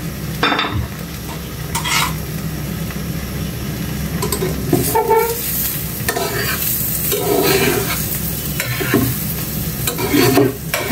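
An egg frying in coconut cooking oil, a close, steady sizzle with repeated scraping and clinking of a utensil against the pan throughout; no talking.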